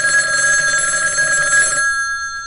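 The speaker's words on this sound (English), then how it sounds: "Telephone. I know. It's ringing." A telephone bell rings loud and close, a bright sustained metallic trill that cuts off abruptly near the end, leaving a fading hum.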